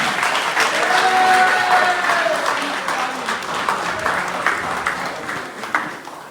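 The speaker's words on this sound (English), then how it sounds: "Please, another hand of applause for Millie." Audience applause at a gathering for Ambazonia liberation, a sustained wash of clapping from a crowd that holds steady, then thins into scattered claps toward the end.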